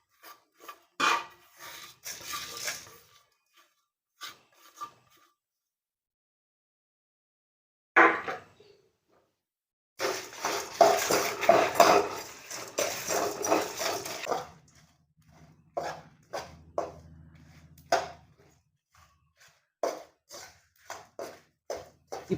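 Dry spices for crab gravy rasp and rub against a pan as they are roasted, in intermittent close scraping bursts separated by silent pauses.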